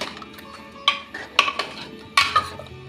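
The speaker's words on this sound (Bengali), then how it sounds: "অল্প একটু ধনে পাতাটা দিয়ে আরেকটু নাড়িয়ে নিচ্ছি" Chicken stew with coriander leaves stirred in a pot, a spoon clinking and scraping against the metal in three or four distinct close knocks with soft sloshing between.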